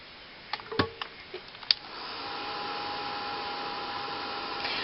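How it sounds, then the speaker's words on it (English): A heat gun switches on and blows steadily with a close, even airy hiss while glass-looking flowers are being made, after a few light clicks and taps from handling. "Do you know what I like about this heat gun"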